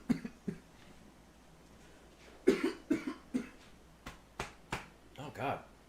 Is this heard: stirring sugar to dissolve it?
no